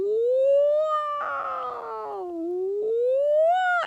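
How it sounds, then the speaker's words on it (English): A single siren wails with a slow rising and falling pitch, loud and continuous, with a brief rougher patch partway through and no voices. "a siren started wailing"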